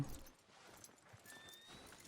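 Faint horse hooves clip-clop in Red Dead Redemption 2 as the rider moves off, soft and distant in a quiet outdoor game soundscape, with no speech.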